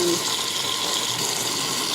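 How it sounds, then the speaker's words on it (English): Warm water runs from a kitchen tap for washing dishes, a steady close hiss lasting two seconds without pause. "get some warm water going."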